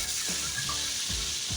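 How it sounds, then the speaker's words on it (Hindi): Pieces of chicken that have turned golden frying in a pan give a steady, close sizzle with a few soft knocks from stirring. "अब हमारा चिकन जो है वो फ्राई हो चुका है।"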